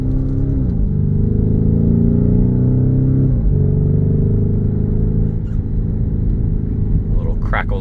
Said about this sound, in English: Now we're driving in Corsa mode here, so it is a little bit louder than normal.